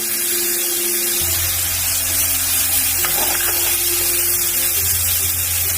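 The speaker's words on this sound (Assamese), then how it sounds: "এতিয়া কুটি থোৱা বিলাহীখিনি দি দিছো" A loud, steady hiss of chopped tomatoes sizzling in hot oil fills the clip, with a low hum starting shortly after the beginning.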